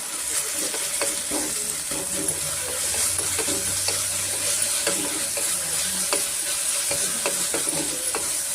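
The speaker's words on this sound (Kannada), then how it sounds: "ಚೆನ್ನಾಗಿ ಸ್ವಲ್ಪ ಆನಿಯನ್ನು ಫ್ರೈ ಆಗಬೇಕಾಗತ್ತೆ ಫ್ರೆಂಡ್ಸ್ ಈರುಳ್ಳಿ ಮತ್ತು ಶುಂಠಿ ಬೆಳ್ಳುಳ್ಳಿ ನೋಡಿ ಚೆನ್ನಾಗಿ ಫ್ರೈ ಆಗಿದೆ" Chopped onion with ginger garlic paste frying for a soya pulao, a loud, steady close sizzle broken by rhythmic scraping and tapping of a spoon stirring the pan.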